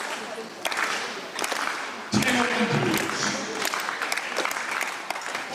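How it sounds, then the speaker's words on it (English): Applause for a high jump attempt at an indoor athletics meet, steady clapping from a crowd that swells midway, with a voice talking over it. "Let's get the applause going for the high jump."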